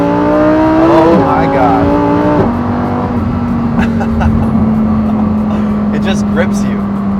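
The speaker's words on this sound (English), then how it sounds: "We're gonna do one more little baby launch." A 2023 Lamborghini Huracan STO launches hard from close inside the cabin, its engine roaring continuously and climbing in pitch through quick gear shifts, with a person exclaiming over the noise.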